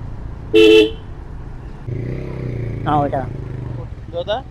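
A car horn honks sharply on a festival road in Pernem, Goa, decorated for the 21-day Ganesh celebration. A vehicle engine hums steadily beneath it, and shorter horn toots follow a few seconds later.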